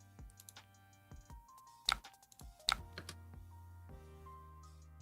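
Mouse or button clicks at a computer during a Marvel Snap match, a few sharp distinct clicks over soft game music and chimes, fairly quiet and close.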